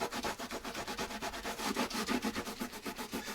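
Brisk scrubbing across a laser-engraved wood piece, fast regular back-and-forth strokes that are close, dense and steady, with no voices over them.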